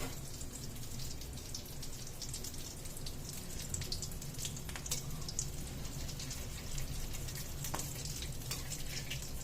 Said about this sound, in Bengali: আর এদিকে আমি ভাজছি।